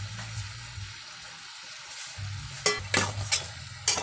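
A utensil stirs lobster and crab in a frying pan, with a few sharp scraping clatters near the end over a low, steady background hum and faint sizzling.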